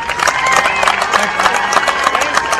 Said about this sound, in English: Please get a big round of applause for them once again.